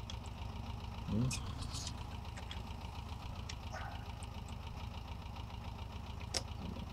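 A tractor engine idles in Farming Simulator 22 with a low, even, pulsing rumble, punctuated by a few faint clicks and knocks, while someone briefly speaks over it.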